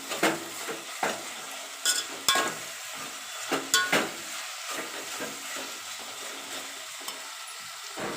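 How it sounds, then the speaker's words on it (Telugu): Ginger-garlic and coriander paste is stirred into frying vegetables for a veg biryani, a spoon scraping and clacking against the pan in repeated strokes over a steady low sizzle. "మనము అందులో అల్లం వెల్లుల్లి పేస్ట్, కొత్తిమీర పేస్ట్ అంతా కలిపేసి మనము ఇందులో వేసి ఒకసారి ఇలా కలపాలి."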